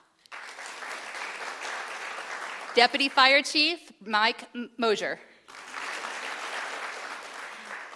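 Steady crowd applause for city staff at a State of the City event, broken in the middle by a man announcing a fire official over a brief lull before the clapping resumes and carries on.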